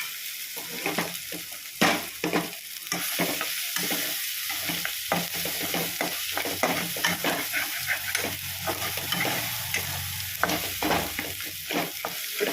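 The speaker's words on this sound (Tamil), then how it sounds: "ஊற்றிட்டு இதை நல்லா நம்ம கலந்து விட்டுக்கலாம்" Two beaten eggs being stirred into a frying pan mixture with tomatoes for Burma noodles, with repeated scraping strokes of a spoon over a soft continuous sizzle, close and steady.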